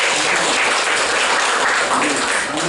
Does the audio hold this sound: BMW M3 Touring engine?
no